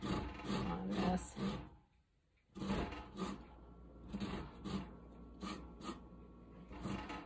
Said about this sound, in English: You just have to be careful that you don't get your fingers too close to the grater